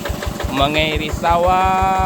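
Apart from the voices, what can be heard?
old two-wheel tractor engine running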